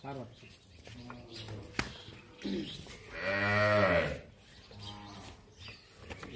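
Cows with calves at a cattle market in Dinajpur give a loud, drawn-out moo near the middle, with shorter lowing calls around it and voices in the background.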